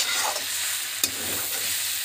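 Cabbage with red chili powder being stirred in a frying pan, a steady sizzle with scraping spoon strokes and one sharp clink near the middle, close and continuous with no talking.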